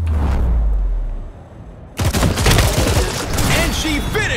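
Gunfire from a squad battle in the video game Showgunners: a loud, dense burst of shots at the start, a brief lull, then another rapid barrage with game effects layered on top.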